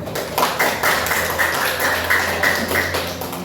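A classroom of students claps for a presenting group at the close of an Islamic ethics lesson: a steady, fairly dense patter of many hands, close and moderately loud, with no talk over it.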